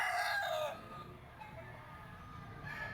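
A gamefowl bull stag crows once near the start, a loud nearby call lasting under a second, followed by quiet background rustle and faint noise.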